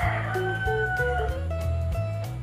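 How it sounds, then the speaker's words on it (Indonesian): Chickens cluck and crow close by, several birds overlapping in a busy, continuous stream of calls with no talking. "dimana-mana suara ayam"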